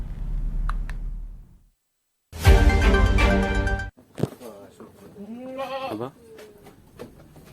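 Goats at a livestock fattening farm in Tegal give a loud, harmonic bleat, then quieter wavering calls follow, while speech-like voices and background chatter run throughout.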